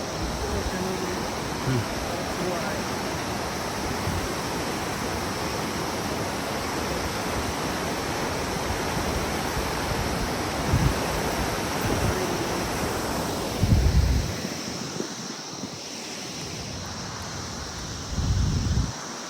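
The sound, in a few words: mountain river water rushing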